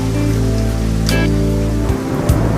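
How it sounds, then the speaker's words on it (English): Rain falling steadily at a junkyard where a 1956 Buick is being worked on, a dense continuous patter mixed with a low droning hum and a couple of brief knocks near the end. "it's raining right now, but we're fine"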